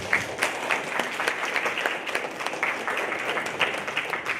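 A crowd at a social justice day soapbox speech event gives a warm, steady round of applause, moderately distant and even, with a few louder claps standing out.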